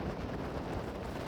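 Strong wind blows during heavy rain over waterlogged ground, heard as a brief, low buffeting rumble against the microphone at a fairly quiet level.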